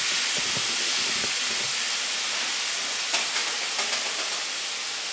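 Tomatoes heating in a pan of oil for a Provençal shrimp pasta, a loud, steady sizzling hiss that fills the whole stretch, with a few faint clicks and pops near the end.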